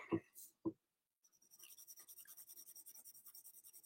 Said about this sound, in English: but we are sketching